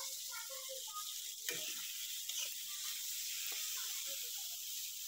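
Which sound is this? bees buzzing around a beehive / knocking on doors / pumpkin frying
pumpkin frying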